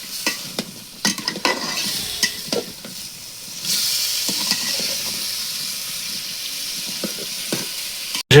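Papaya pieces frying in a pan of cooked-down spiced masala, a steady close sizzle with scattered clinks and scrapes of stirring, growing louder and hissier as the papaya goes in.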